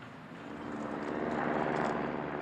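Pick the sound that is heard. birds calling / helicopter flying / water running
helicopter flying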